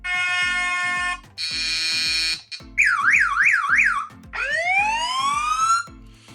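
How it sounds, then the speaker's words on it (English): Android phone anti-theft alarm tones cycle through several patterns: a steady buzz, a high beep, a warbling siren, and rising sweeps, loud and close over a steady beat. "Alarm tone, you can choose an alarm."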